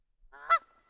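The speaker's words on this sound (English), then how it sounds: "Geese!" A single short goose honk, close and clear, a brief harmonic call alone in otherwise quiet surroundings.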